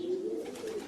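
Pigeons coo inside a cage, a soft, low, steady murmuring call sustained close by with faint background noise and no talking.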